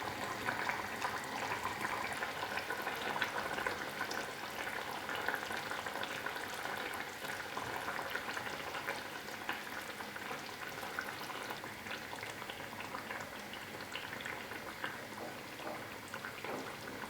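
A coconut-milk masala gravy for a Kerala tilapia curry bubbles in a pan, a quiet, even crackle and simmer that holds steady throughout.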